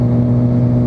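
Suzuki GSX600 sport motorcycle engine held at a loud, steady, close-up drone with a strong low hum, lasting under a second.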